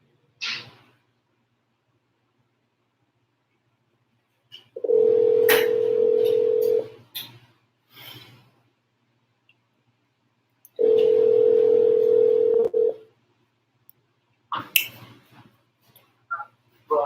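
A telephone rings for an incoming call in two long, steady electronic tones, each lasting about two seconds and separated by a pause, heard clearly in an otherwise quiet room.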